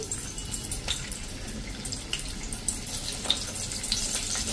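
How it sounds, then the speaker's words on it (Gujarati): Slit eggplants fry in hot oil over a full gas flame, a steady bubbling sizzle with scattered small pops and crackles, fairly close and with no talking. "આ રીતે કટ મૂકીને ડાયરેક્ટ આપણે તેલમાં જ તળી લેશું"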